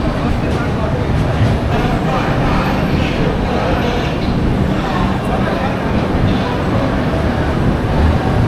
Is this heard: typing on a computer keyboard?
no